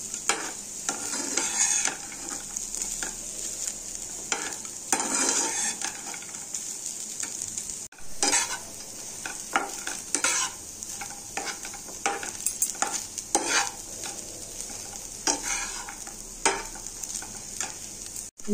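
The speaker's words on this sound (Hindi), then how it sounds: "इन सारे सामग्री को लो फ्लेम में फ्राई करेंगे।" Poha ingredients frying in a pan over a low flame, a continuous crackling sizzle with repeated spatula scrapes and stirring knocks throughout, close and fairly loud.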